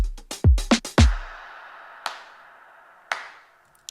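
A drum-machine clap sample with the reverb and mix set to 100% strikes in a quick burst of sharp hits alongside punchy low thumps, then single claps ring out into long, washy reverb tails.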